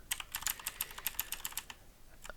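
Rapid, close computer-keyboard typing while editing code in Visual Studio: a steady run of crisp key clicks for about two seconds, a brief pause, then a couple of final taps.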